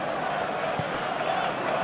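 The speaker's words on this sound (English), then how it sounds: "the crowd clearly like what they just saw" A stadium crowd roars steadily in a PES football video game match between Arsenal and Man City at the 2023 Community Shield, a dense, continuous wash of cheering with no breaks.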